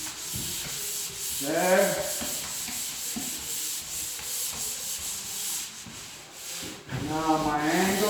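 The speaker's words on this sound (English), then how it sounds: "I'll be able to reach it with the electric sander." Electric sander working wood overhead in a high spot, a steady rasping hiss that swells and eases as it moves across the surface, with a brief spoken word.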